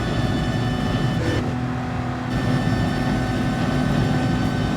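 An Audi race car engine in Gran Turismo Sport, a loud continuous drone of engine and road noise with a brief dip partway through, no talking.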